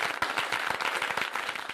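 Studio audience clapping for a young politician guest on a Hindi satirical TV talk show, a short burst of dense, steady applause filling the room with no talking over it.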